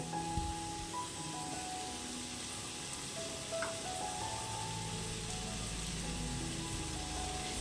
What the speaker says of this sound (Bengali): আর ফুল ফ্লেমে এটাও ভাজতে থাকবো। এটা এখন এখানে ফ্রাই হতে থাকুক।